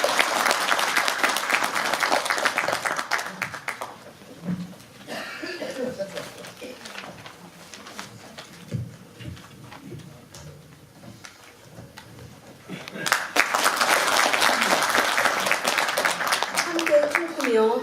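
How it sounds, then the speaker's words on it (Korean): Audience at a book concert breaks into applause for a few seconds, then it drops to quieter talk and scattered sounds before a second strong round of clapping swells up near the end. "뜨거운 박수로 청해 듣겠습니다"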